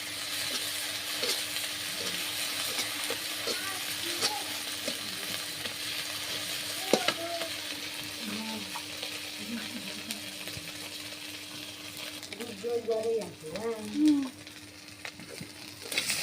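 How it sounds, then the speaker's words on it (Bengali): Cumin paste and ginger paste frying in a pan give a continuous hiss and sizzle, with light stirring scrapes and a few louder bursts toward the end. "তখন জিরা বাটা আর আদা বাটা দিয়ে দিলাম। এটাও একটু ভেজে নিন।"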